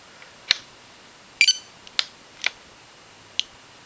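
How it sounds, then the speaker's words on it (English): Spektrum DX7s radio transmitter beeping as it powers up, a series of short, sharp electronic beeps spaced irregularly, including a quick double chirp, close and clear against near silence. "you can see we get beeps and a vibration"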